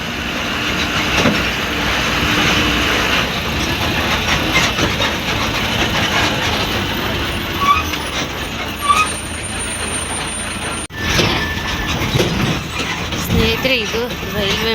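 A train crosses a railway bridge at Naramagere, a steady loud rumble of rolling wagons and clattering wheels that carries on throughout, with brief screeches and a short break near the end.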